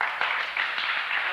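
A lecture audience applauds briefly. The clapping is soft and somewhat distant and holds steady for about a second, with no talking.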